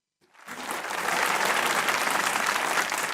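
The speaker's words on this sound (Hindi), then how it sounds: "जिसको लगता है कि रेहम ने बुरा बनाया वो तालियां बजाएं।" A comedy show audience bursts into applause after a short silence, the clapping swelling quickly into a full, sustained roar of many hands that stays loud and even to the end.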